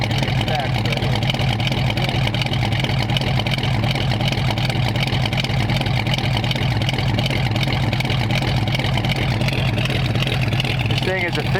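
A hot rod engine with dual exhaust and an aggressive cam runs with a steady, loud, throbbing lope close by, and voices are heard over it.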